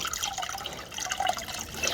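Water poured by hand into a container of General Hydroponics Flora nutrient mix while it is being stirred, giving a steady, close, moderately quiet trickling and splashing that runs through the whole moment.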